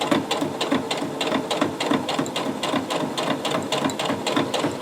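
A sewing machine stitching a bag pocket seam, a fast steady mechanical chatter of needle strokes, close and moderately loud, running throughout without talk.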